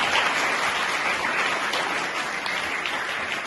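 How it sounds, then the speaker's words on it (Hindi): Sustained applause from an audience at a DAV school ceremony honouring outstanding girl students, here clapping for their teachers; a dense, steady wash of many hands with no voices over it. "आपके शिक्षक, उनके लिए भी जोरदार ताली"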